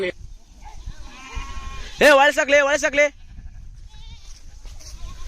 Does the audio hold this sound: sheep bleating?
yes